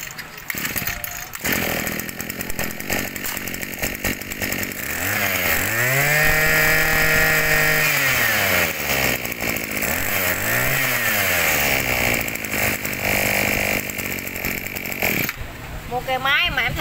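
A used Japanese Robin four-stroke brush cutter engine runs close by, revving up and down in buzzing surges before dropping back to idle, with someone talking over it.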